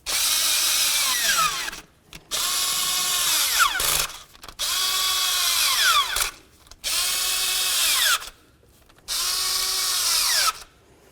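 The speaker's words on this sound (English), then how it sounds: "With all the bolts started in there, now we're going to start snugging them up." A power drill or impact driver snugs up the valve cover bolts on a 1998-2002 Honda Accord, five loud whirring bursts of about two seconds each with brief pauses between, the pitch rising and falling as each bolt seats.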